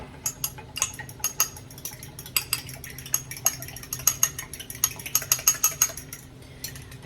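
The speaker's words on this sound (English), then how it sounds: "I do not have a whisk, so we are going to use a fork" A metal fork beats salted and peppered ingredients in a bowl in place of a whisk, making quick, uneven clinks and taps against the sides that pause briefly and then speed up again.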